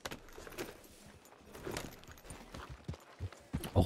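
Horse hooves clip-clop at a walk in Red Dead Redemption 2 in a busy evening town, soft irregular thuds mixed with jingling tack and faint background bustle.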